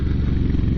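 Moto Guzzi V7 motorcycle engine while riding, a steady low throbbing drone with dense mid-range texture, close and loud, no voices.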